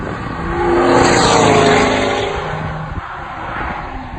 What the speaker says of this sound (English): what you really feel is the sound from the engine